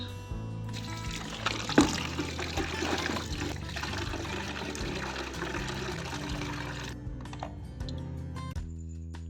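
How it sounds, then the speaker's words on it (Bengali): Vegetables and fruit, potatoes among them, are washed one by one under water in a home kitchen, with continuous splashing and trickling and occasional knocks for about seven seconds before the water cuts off. "এখানে সবজি আর ফল যত আনা হয়েছিল ঠাকুরের ভোগের জন্য সব একে একে ধুয়ে নিচ্ছিলাম"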